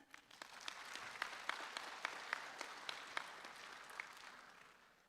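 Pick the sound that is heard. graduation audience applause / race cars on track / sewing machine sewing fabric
graduation audience applause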